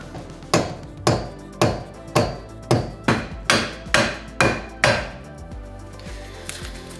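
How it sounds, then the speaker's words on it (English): Metal hammering on a car chassis being fitted past a ground-down weld in a garage: nine sharp, ringing blows at a steady rhythm, close and loud, then a short pause with a lighter tap at the end. "We're using a combination of grinding down a weld and hammering to get this to fit."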